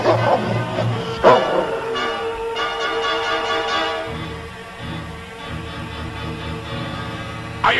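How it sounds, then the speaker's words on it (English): A dog barks in sharp, loud bursts and then lets out softer whimpering whines during a tense outdoor trail accident scene, with a continuous background wash beneath it. "Get this dog off of me!"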